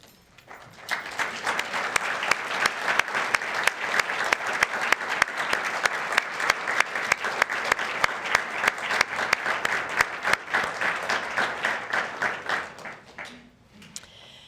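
A large audience at a Veterans Day program applauds the veterans standing among them, steady dense clapping that swells in about a second, holds for roughly twelve seconds, then fades out.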